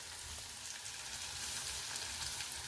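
Okra frying in a pan as kalonji masala is stirred through, a low, even sizzle with faint stirring scrapes, quiet and continuous.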